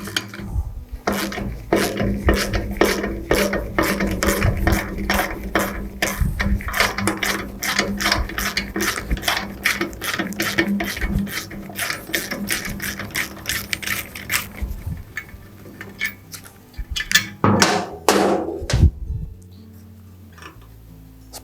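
A ratchet loosening a valve spring compressor tool on a 5.7 HEMI engine, a long run of fast, close, evenly spaced clicks that slows and fades, then a few last clicks and a clank before quiet.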